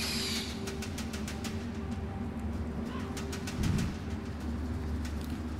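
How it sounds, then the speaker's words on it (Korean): A brief, low cooing owl call rings out in the stone-age wilds of the video game Far Cry Primal, sounding faintly over a steady ambient wash of wind and distant birdsong. "자, 여기서는 올빼미를 부릅니다."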